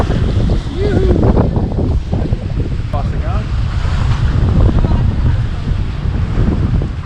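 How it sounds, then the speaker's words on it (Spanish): Waves slap against the hull of a family sailboat out at sea, with rushing water, gusting wind buffeting the microphone and brief splashes over a steady roar. No one speaks. "Hay una ola que golpea un poquito del lado izquierdo"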